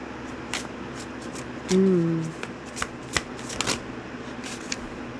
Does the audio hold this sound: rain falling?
no